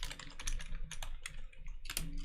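Dense, continuous typing on a computer keyboard during a live coding session, quick clattering keystrokes running throughout with brief pauses, close and fairly loud with no talking.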